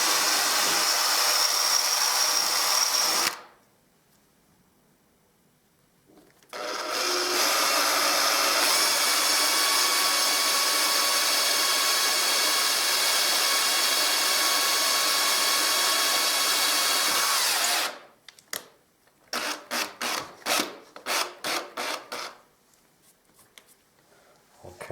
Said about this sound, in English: Okay, a bit tougher to drill through.